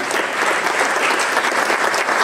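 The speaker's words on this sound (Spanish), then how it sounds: "Un aplauso para él" An audience at a music event breaks into thick, loud applause for a maestro, with continuous clapping and no pause for the whole stretch.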